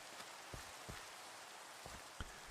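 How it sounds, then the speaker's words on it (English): Light rain falls in a video game, soft patter on surfaces with a few clearer drops, steady and quiet with no talk. "I'm waiting for the rain to stop."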